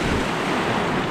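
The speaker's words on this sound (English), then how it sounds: "Didn't see that wave coming" Sea surf washing onto a Northumberland fishing shore, a loud continuous wash mixed with wind buffeting the microphone, with no voices.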